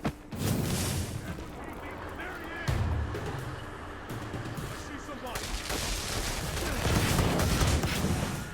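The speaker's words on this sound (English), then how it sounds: "Delson, I heard shots." Gunfire and explosive blasts in the video game Infamous Second Son, a dense, continuous barrage of booming shots and bursts that swells toward the end, with speech mixed in.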